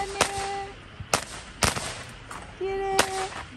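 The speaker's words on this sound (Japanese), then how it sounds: "ほら花火だよ、ほら花火だよ、パパ花火だよ。" Fireworks go off at a roadside-station campsite in Katsura during Golden Week, giving four or five sharp, loud pops spaced irregularly. Faint voices can be heard between the bursts.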